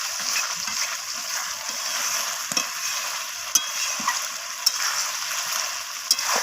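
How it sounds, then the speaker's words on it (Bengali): Chicken sizzles loudly in oil as it is stir-fried until the oil separates, a constant bright hiss broken by occasional spatula scrapes and taps. "দেখুন এইভাবে একটু সময় নিয়ে কষাতে হবে। আর কষাতে কষাতে দেখুন তেল ছেড়ে দিয়েছে।"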